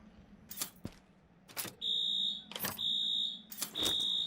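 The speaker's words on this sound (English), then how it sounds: "Fire alarm." A fire alarm sounding in repeated shrill electronic beeps in a regular pattern, with sharp clicks and knocks between the tones, fairly close and without talk.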